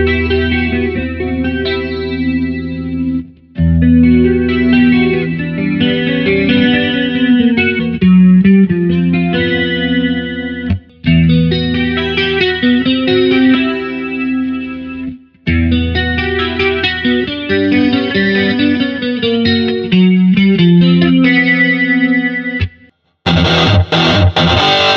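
Loud distorted riffs on a LAG Arkane 200 electric guitar in repeated phrases separated by brief pauses, with a rich chorus-like shimmer and no voices.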